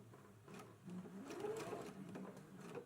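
A sewing machine runs steadily, basting the raw edges of fabric together, a soft close whirring hum with faint rhythmic needle ticking, quiet and uninterrupted for a few seconds.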